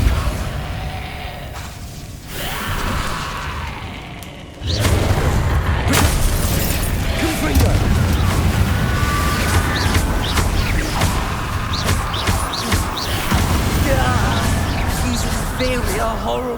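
Depulso force spell blasts from the video game Hogwarts Legacy thump and crash repeatedly among whooshes and shattering debris, with voices heard throughout the busy stretch of combat.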